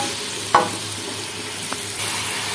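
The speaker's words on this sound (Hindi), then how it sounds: "फ्राई कर लेंगे आलू को।" Potatoes frying in hot oil in a pan for biryani, a steady close hiss and sizzle with a sharp clink of stirring early and a fainter tap later, no voices.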